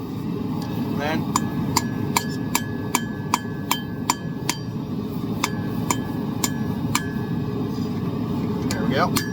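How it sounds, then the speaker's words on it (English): Metal is hammered while a spoon is forged, a series of sharp ringing strikes in irregular bursts, some with a sustained bright ring, over a steady low background hum and brief talk. "Just hammer it in there."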